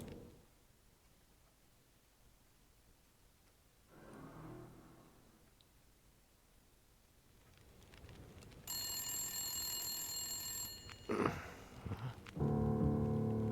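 Telephone ringing in The Long Dark's Wintermute story mode; after quiet ambience and a soft rustle, a bright, electronic-sounding ring sounds for a couple of seconds, then gives way to louder clattering noises.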